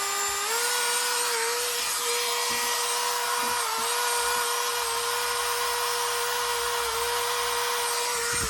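A Dremel rotary tool spins at 35,000 RPM, giving a loud, continuous high-pitched whine close by that holds steady throughout, with slight pitch wobble and no talking.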